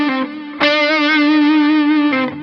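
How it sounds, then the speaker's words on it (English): An electric guitar played through chorus, delay and spring reverb effects: a single sustained, wavering chord rings out, restruck after a moment, loud and close with a shimmering tail and no talking. "I'm using chorus, delay, and like a spring reverb."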